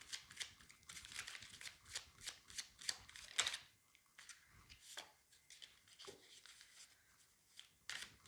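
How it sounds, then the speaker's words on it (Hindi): Tarot cards being quickly shuffled by hand, a run of soft papery riffles and rubbing swishes in short bursts, close and quiet, with a pause midway before a final flurry. "एक क्विक शफल करूंगी मैं."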